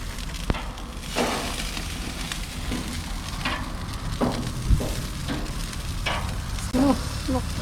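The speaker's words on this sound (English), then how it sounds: "Okay, we're going to turn the ribs over." Steady close sizzling and frying of big beef ribs on a Canadian barbecue grill, with a few clatters and scrapes as the ribs are turned over.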